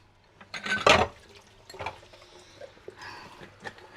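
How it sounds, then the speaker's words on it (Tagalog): Dishes being washed by hand in a Filipino home kitchen, with a sharp clatter of plates and utensils near the start, then softer knocks and water splashing that come and go. No one speaks. "Hugas tayo ng pinggan muna."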